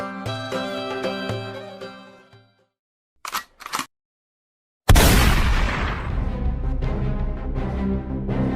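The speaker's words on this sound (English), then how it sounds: "Today we're going to try the indoor shooting range." Gunshots at an indoor shooting range at a gun club in Yalova, Turkey: music fades, then two quick sharp cracks and a loud close blast that rings out with a long echoing decay.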